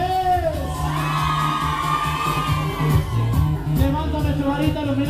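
Large crowd shouting, whooping and cheering at a sonido dance in Tultengo, Tula, Hidalgo, a dense loud roar of many voices with thumping dance music underneath.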